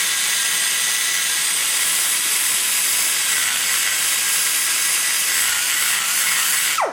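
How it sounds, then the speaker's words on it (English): A grinder works on a small-block Chevy 186 cylinder head, blending the bowls as metal is pressed against it, giving a loud, steady, high-pitched grinding hiss that runs unbroken until it stops abruptly at the end. "Hear the change in the grinder speed when I start bearing down the metal on it?"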